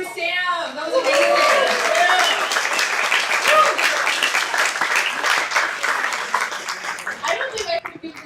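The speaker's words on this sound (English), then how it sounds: "Let's do one more round of applause for Sam." An audience at a live astronomy talk evening in Seattle gives a loud, sustained round of clapping that swells quickly after a brief voice, then tapers toward the end.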